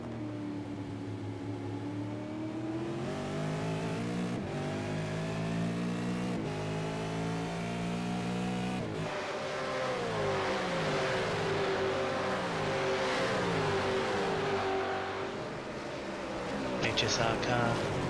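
V8 veteran race cars roar around the Sandown circuit, engines revving and shifting through gears in rising and falling sweeps, loud and sustained, with a commentator talking over the racing.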